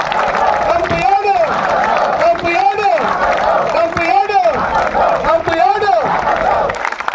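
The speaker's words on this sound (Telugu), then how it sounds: "చప్పట్లు కొట్టండి" A crowd of women protesting a dump yard clap their hands together in loud, rhythmic waves, with bursts of cheering and chanting voices rising over the clapping at regular intervals.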